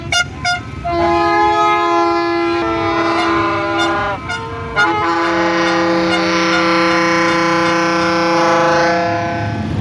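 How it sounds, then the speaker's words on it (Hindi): Orange Line train at its station, where a loud sustained multi-tone horn blares close by over a steady rail rumble, shifting in pitch partway through and holding to the end. "ये है ऑरेंज ट्रेन का स्टेशन, ये आपको नज़र आ रहा होगा"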